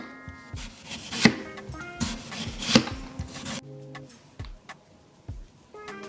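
A knife cuts thin 2 mm slices from a potato, with a string of crisp chopping taps, two sharper cuts standing out, and quieter knocks toward the end.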